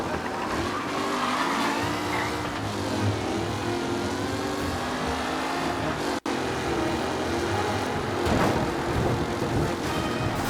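Race car engines roar in a loud, continuous wall of sound during a race in Mafia: Definitive Edition. Revving pitch sweeps up and down as cars pass, with tyre noise mixed in.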